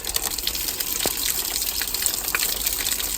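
Hot water runs from a tap fed by a Viessmann Vitodens 100 combi boiler, a steady, full gush of flowing water that continues without a break, with no talk over it.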